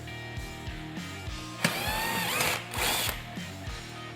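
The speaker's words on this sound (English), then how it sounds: "we're going to remove the screw out of the side fascia" A screw is backed out of the passenger-side fascia on a Polaris RZR Pro XP. Steady rhythmic ratchet clicks surround a brief whirring burst of a power driver, all close up and fairly quiet.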